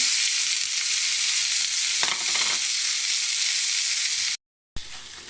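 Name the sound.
chopped onion, garlic and green chili frying in oil in a pan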